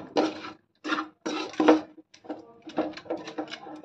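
Rice flour sweet mixture with fruit colour being stirred in a pot, giving short bursts of close scraping and clinking against the vessel, separated by brief pauses.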